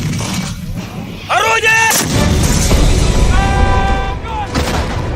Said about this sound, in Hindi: रूस की MSTAB तोपखाना रेजिमेंट ने यूक्रेनी सेना पर बेहद तीखे और प्रचंड हमले किए।